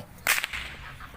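A whip cracks with one sharp, loud snap, then a quick second smack and a short fading tail.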